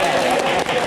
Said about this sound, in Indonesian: tepuk tangan dulu dong untuk Ipsi